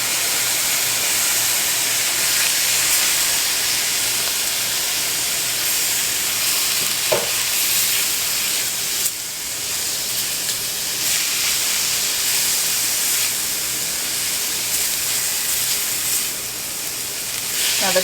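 Turkey bacon sizzles and fries steadily in a pan as a large tomato goes in, a loud continuous hiss with a brief stir-like clatter partway through, and no talking.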